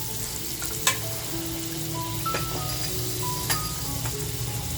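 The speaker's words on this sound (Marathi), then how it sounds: "त्याच्यात थोडंसं तेल टाकलं आहे आणि आता थोडंसं बटर टाकते" Butter melts into hot oil left in a pan just used for frying fish, giving a loud, steady sizzle and crackle close up, with a few sharp clinks of a utensil against the pan.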